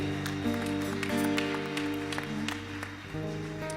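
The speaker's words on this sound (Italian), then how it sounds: "Fai un applauso al Signore Gesù" Congregation at an Italian church worship service applauding in praise, a broad sustained patter of clapping over a sung or played sustained chord, fairly loud and continuous throughout.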